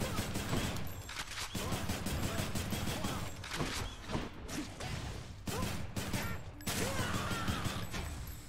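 Rapid gunfire from a reloading weapon in the game Hades, a dense string of sharp shots in bursts with brief gaps, loud and close, with a voice talking over it.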